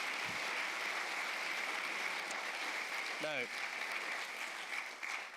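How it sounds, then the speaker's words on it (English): An audience round of applause at a radio behind-the-scenes event, with steady crowd clapping throughout and a short spoken word over it. "just give them a round of applause."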